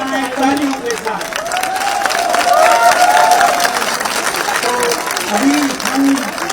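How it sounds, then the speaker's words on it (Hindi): A crowd at a public speech in India applauds and cheers, a sustained wash of clapping and voices that swells in the middle and stays loud throughout, with a speaker's voice heard over it. "इसका हम जश्न मनाएं तालियों के साथ"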